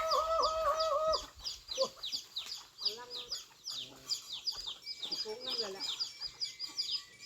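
Chickens cluck and squawk close by in a busy, uneven chorus, with a louder call at the start and people talking underneath.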